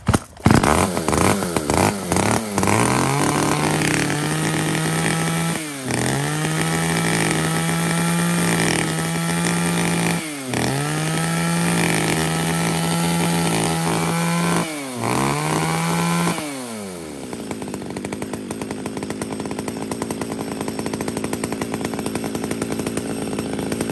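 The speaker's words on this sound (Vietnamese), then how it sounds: "một con máy cưa tay cụt Echo Grand" An Echo Grand top-handle chainsaw, a used Japanese import, runs loud and close, its engine revving in repeated surges with brief dips between, then settles into a steady rough idle.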